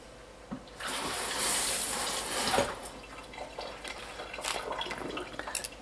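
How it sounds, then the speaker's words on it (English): Small peppers are rinsed under a running kitchen tap, a soft steady gush of water splashing with faint shifting as they are handled, with no talk. "My peppers, I'm going to wash them."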